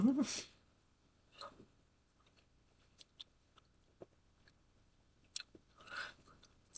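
Someone chews a durian candy close to the mic, with soft wet smacks and scattered faint clicks between quieter pauses.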